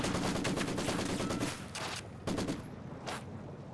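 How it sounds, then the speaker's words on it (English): Machine gun fire in the Company of Heroes 2 real-time strategy game, a dense rattling stream of rapid shots that breaks off around the halfway point, then returns in shorter bursts. "Oh, MG set up and a lot on negative cover."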